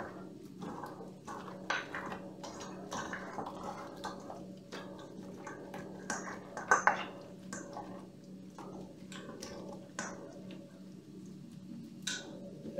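An egg is beaten in a bowl with quick, light, irregular taps and wet squishing from the utensil against the sides, faint over a low background hum.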